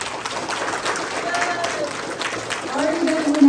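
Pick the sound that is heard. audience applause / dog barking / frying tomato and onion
audience applause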